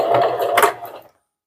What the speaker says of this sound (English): what I'm going to do is make my machine sew in reverse